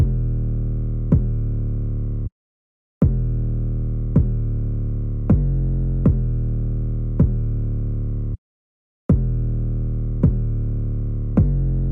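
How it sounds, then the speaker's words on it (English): A deep, heavy 808 bass drum from a remake booms in a steady pattern of sustained hits. Two short gaps of silence break the pattern, and the drum plays alone and loud. "We have the 808, which sounds like this."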